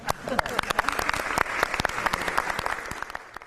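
Dense, lively applause fills a Korean news studio, many hands clapping at once in a bright, continuous patter close to the microphones.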